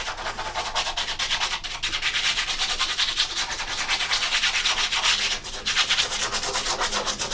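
Clumped, dried model-railway scenery powder being rubbed back into fine powder on an N gauge layout, a steady dry scratchy rasp continuing close and loud for several seconds with brief dips.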